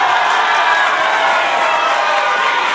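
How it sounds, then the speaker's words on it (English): Wrestling crowd cheering wildly: a dense, continuous roar of many voices, steady and loud from start to finish without any gaps. "And the crowd goes wild."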